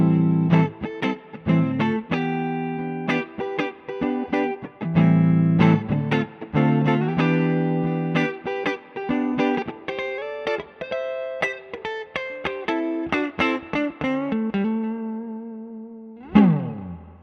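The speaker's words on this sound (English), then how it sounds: "my Fender Broadcaster, and I'm using the 2-Rock Bloomfield drive in a very clean setting," Fender Broadcaster electric guitar played through a 2-Rock Bloomfield drive pedal set very clean, picking a run of bright single notes and chords close up, ending on a final bent note.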